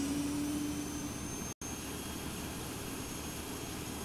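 Avro Vulcan jet engines spool up in a rapid start inside a flight simulator game, a steady loud broadband roar with a thin whine on top, briefly cut by a moment of silence.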